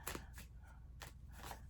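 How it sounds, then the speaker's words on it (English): A tarot card deck is shuffled by hand, producing several soft, quick riffling bursts close to the microphone in a quiet room. "Therefore, I feel like I need to shuffle it."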